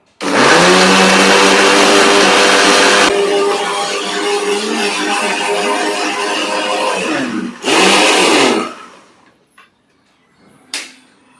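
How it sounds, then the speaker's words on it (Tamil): A kitchen mixer grinder grinding tamarind and salt runs with a loud, steady motor whir that shifts pitch partway through, stops, gives a second short burst, then falls silent apart from a faint click. "புளி உப்பு ரெண்டும் போட்டு மிக்சியில் வந்து நல்லா அரைச்சிடணும்"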